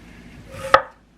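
A single sharp knife chop through hot peppers on a cutting board while preparing hot sauce for canning, one crisp close knock standing alone in a quiet kitchen.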